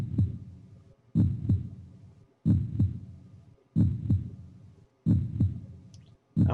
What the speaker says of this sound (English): I hope that's his heart beating.